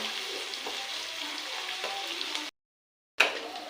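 Onions frying in a pan until reddish-brown for a chicken curry, a steady close sizzle with soft stirring, cut off by a short silent gap before the sizzle resumes.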